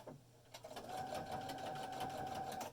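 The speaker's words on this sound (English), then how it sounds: "I'm going to stitch this down about halfway and stop" A sewing machine stitching a homemade fabric face mask, a steady close whirring hum that starts after a brief pause and runs evenly to the end, with no speech.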